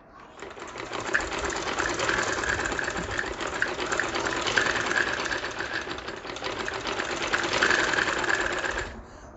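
Sewing machine running steadily while stitching a simple straight-style ladies' trouser, a continuous close mechanical whir with a fast needle rhythm throughout, no talking.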